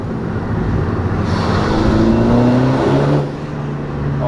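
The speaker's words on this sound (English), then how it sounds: "Oh, this car sounds good too." A Volkswagen Golf GTI Mk6 engine revs up loudly nearby, pitch climbing steadily, then drops back as the throttle eases off.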